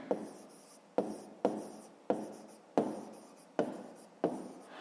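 Handwriting on paper while working a fifth-grade maths exercise, close and quiet: six scratchy pen strokes, each starting with a sharp tap and fading, at roughly regular intervals with no talking.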